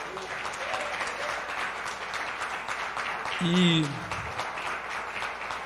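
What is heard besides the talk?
church congregation applauding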